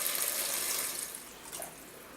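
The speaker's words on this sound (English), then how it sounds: "Let's go ahead and add the water to this." Water pours steadily into a soup pot while making meatball soup at home, a continuous close splashing wash that eases slightly toward the end, with no talk.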